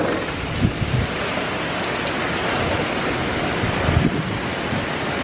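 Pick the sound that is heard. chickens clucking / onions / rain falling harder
rain falling harder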